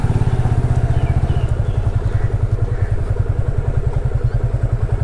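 A motorcycle engine idles close by with a loud, rapid, evenly pulsing thump while it is brought to a stop and parked outside a temple in Odisha.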